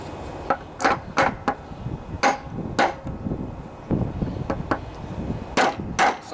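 A hammer strikes a John Deere LA145 riding mower deck bearing to drive it out. There are about a dozen sharp metallic blows at an irregular pace, close and loud over a light background rumble, with no talking.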